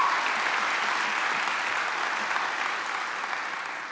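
Sustained applause fills a graduation ceremony hall in Hof as a crowd claps steadily and densely, holding the same loud level throughout with only a slight fade at the end.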